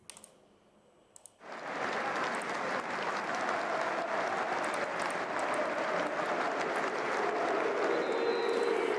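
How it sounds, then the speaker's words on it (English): Large Burnley football crowd in a stadium, a sustained loud roar of applause and jeering that swells suddenly after a quiet start and holds steady throughout. "As you can hear, they were booed by the Burnley fans"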